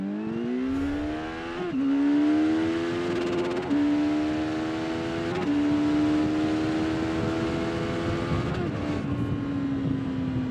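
A Kawasaki Z900 SE or Yamaha MT-10 SP motorcycle accelerates hard from standstill, its engine note climbing loud and close through several gear changes with brief dips between rising pulls.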